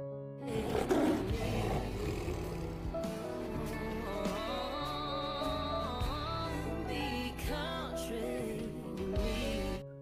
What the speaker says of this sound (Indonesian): mereka mendengar suara macan gunung di tengah hutan